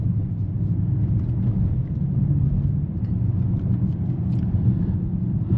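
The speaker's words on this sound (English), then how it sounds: "you can hear the exhaust" Steady low exhaust drone from a 2025 Mercedes-AMG GLE 63 S performance SUV while driving, a continuous deep rumble with little change in level, heard from inside the cabin with no talking.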